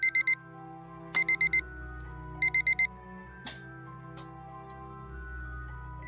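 A beeping in-game alarm goes off in Kerbal Space Program: three bursts of rapid electronic beeps separated by pauses, each burst a quick train of four tones, over a low steady game hum with a few soft clicks.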